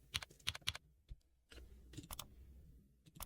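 Quiet bursts of computer keyboard typing: a quick run of crisp key clicks, a pause, then several more scattered keystrokes, all faint and close with no talking.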